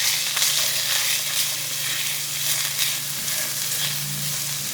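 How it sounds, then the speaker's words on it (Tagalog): Garlic, carrots and green beans sauté in hot oil in a pan, a steady bright sizzle with faint stirring scrapes and a low background hum throughout. "So maggisa muna tayo ng bawang. Next, yung carrots. Sunod naman yung green beans."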